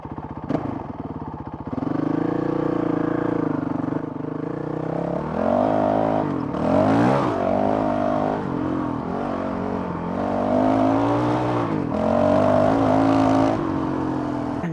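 A Honda CRF 450 RL dirt bike engine idles after a quick start, then revs repeatedly in smooth rising and falling bursts, loud and close throughout.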